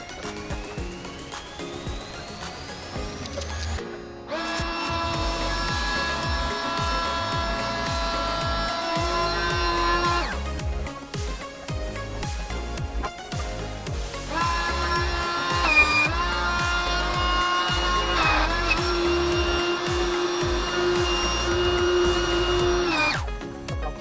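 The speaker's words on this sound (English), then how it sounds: "Let's blow it up and see if we can see any leakage coming out of the valve." Pump inflating an inflatable dinghy, a loud, steady droning whir with a tonal hum that runs in two long stretches, broken by a short pause and some clunking handling noises.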